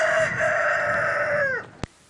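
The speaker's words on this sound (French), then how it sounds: "Le chant du coq marque le début d'une journée fort laborieuse pour les femmes du village Taga dans les Aurès." A rooster crows once in a long, drawn-out call at the start of the day in the village of Taga in the Aurès, clear and fairly close, ending with a short sharp knock.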